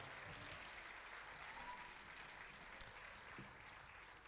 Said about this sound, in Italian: facciamo un applauso al corpo di ballo, fatemelo sentire